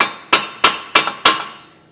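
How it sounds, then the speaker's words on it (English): Hammer and punch struck against the center of a rear axle to break the hub free on a 2015-2019 Subaru Outback: four sharp, loud metallic blows at an even pace, close up, with no talk. "A hammer and punch directly in the center of the axle"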